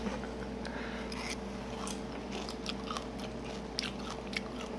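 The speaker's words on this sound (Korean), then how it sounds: "일단은 저는 불가사리만 먹어보겠습니다." Someone eating starfish, close crunchy bites and steady chewing with small crackles throughout, no talking.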